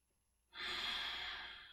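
A single slow exhale through an open mouth during a gentle yoga flow, a soft breathy whoosh that swells quickly and then fades gradually, close and quiet with no talking.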